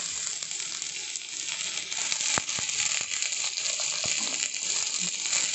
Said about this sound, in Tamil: நம்ம கோல்டன் ப்ரௌனிஷ் ஆகிற வரைக்கும் நம்ம இதை வதக்கிடுவோம்